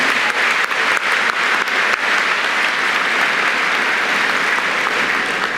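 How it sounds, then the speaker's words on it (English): Loud, steady applause from a graduation ceremony audience, a full wash of many hands clapping, with a few sharper claps at the start. "I'd like to give those three ladies a round of applause"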